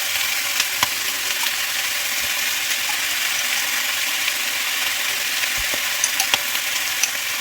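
Pork skin frying golden brown in a pan with red curry paste, a loud, continuous close sizzle and crackle with occasional stirring knocks, no talking.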